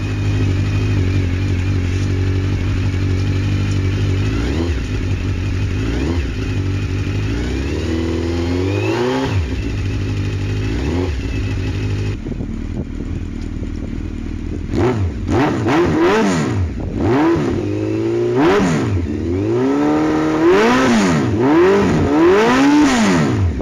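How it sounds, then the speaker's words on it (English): A Suzuki GSX1400 motorcycle with a full Akrapovic exhaust system, standing still: a deep, loud idle with small blips, then a run of sharp, repeated throttle revs that rise and fall, close and alone. "Let's find out what a GSX1400 with a full Akropovic exhaust sounds like."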